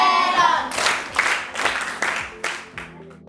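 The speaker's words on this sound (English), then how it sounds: "Clap for her." Classroom students clapping for a classmate, a brief, fairly loud burst of scattered hand claps that thins out into a few separate claps, with a voice heard over the start.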